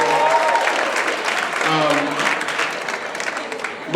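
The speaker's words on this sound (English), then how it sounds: "Let's give him a big round of applause, first of all, everybody" A crowd at a motivational talk breaks into sustained applause, dense clapping filling the room while a voice carries over it.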